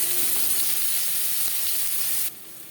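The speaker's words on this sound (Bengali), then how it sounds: "পেঁয়াজ ভেজে নেব।" Finely chopped large onion frying in a little oil in a pan, giving a loud, steady, close sizzle that drops sharply near the end.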